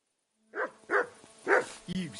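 A dog barks in the medieval video game Kingdom Come: Deliverance, four loud, close barks in quick succession, the last one lower and more drawn out, like a whine.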